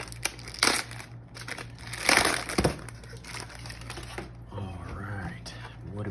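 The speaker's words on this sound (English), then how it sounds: "So let's take this plastic off now." Plastic wrapping peeled and crinkled off a Taramps car audio amplifier box just out of the factory, giving close, irregular rustling and crackling bursts, with a low steady hum underneath.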